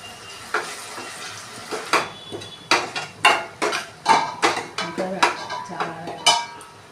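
Fish curry with onion paste and salt being stirred in a pan, a utensil striking and scraping the metal in steady, loud, closely spaced clanks about twice a second, with no voice over it.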